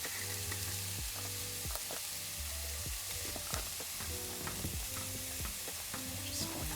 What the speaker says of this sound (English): Just going to get all of those seasonings incorporated.